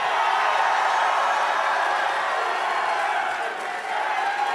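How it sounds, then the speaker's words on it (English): Political rally crowd cheering and clapping in a dense, steady roar that holds at full strength throughout, with a brief dip near the end. "Every single one of you clapping for Thomas Massey"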